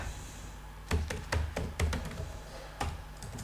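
A computer keyboard clatters with a handful of separate key taps, a shortcut being pressed in short close-up clicks with small pauses between them.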